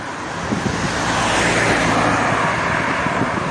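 Steady road traffic noise with cars passing close by on the road up to Cheadle near Abney Hall Park in Stockport, a continuous loud roadside roar with no talking.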